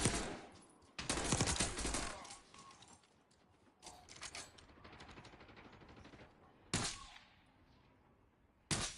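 Gunfire in a video game: loud bursts of rapid automatic fire, one long volley and several shorter ones separated by quieter gaps.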